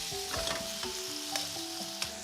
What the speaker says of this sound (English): Gas on to a nice high heat, about a tablespoon of oil.